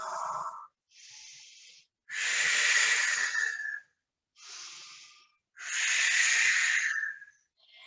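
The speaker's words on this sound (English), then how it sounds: "really exaggerate that breath out" Forceful, exaggerated breaths out during an intermediate Pilates exercise, a series of long, breathy hisses and shorter puffs separated by pauses, close and fairly loud with no talking.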